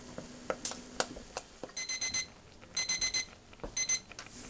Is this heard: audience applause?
no